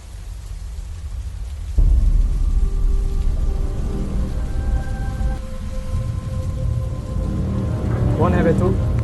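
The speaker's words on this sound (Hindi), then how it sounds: "थोड़ा बारिश वारिश बंद होने दो।" Heavy rain pours down steadily, with a low rumble of thunder underneath. The downpour swells sharply after a couple of seconds and keeps going as a dense, loud wash.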